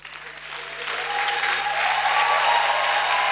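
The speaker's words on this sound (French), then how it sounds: "Et nous allons acclamer ce Dieu-là." A standing church congregation applauding and cheering at a Sunday service, steady dense clapping that builds and holds loud throughout.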